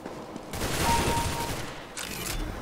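Gunfire in a CS:GO deathmatch round, a dense burst of rapid automatic shots filling most of the moment, then a brief gap and a second volley, loud and close.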